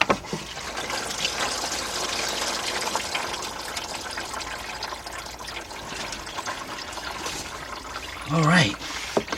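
Coolant drains from a disconnected engine hose into a catch pan beneath a 2003 Jeep Liberty Sport 3.7 during an engine rebuild, a steady watery trickle and splash running throughout, with a brief louder burst near the end.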